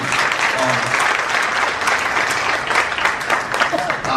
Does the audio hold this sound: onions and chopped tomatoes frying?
no